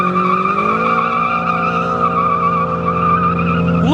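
A Lamborghini Aventador roars continuously on an airstrip during a burnout, its engine tone steady and loud with tire squeal layered in, rising slightly near the end.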